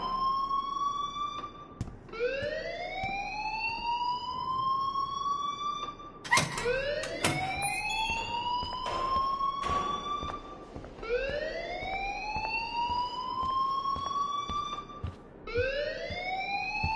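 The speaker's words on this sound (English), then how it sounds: "please turn off that alarm since that's your job" An electronic alarm in the Life is Strange game wails in repeated rising sweeps, each climbing tone lasting a few seconds, loud and insistent with sharp clicks and bursts scattered between cycles.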